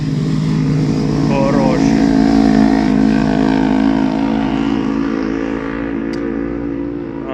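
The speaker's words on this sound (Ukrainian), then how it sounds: "О, мотоцикли." Loud motorcycle engines roar past nearby, a sustained revving drone that fades slightly toward the end, with a brief spoken remark over it.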